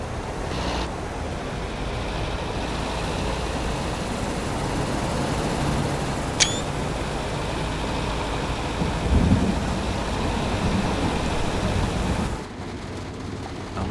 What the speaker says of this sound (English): I'm liking the rain, the sounds,